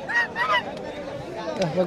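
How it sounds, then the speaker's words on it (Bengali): A domestic goose at a small village market honks several times nearby in short nasal bursts, with faint crowd babble around it. "তো হচ্ছে এই যে রাজহাঁস"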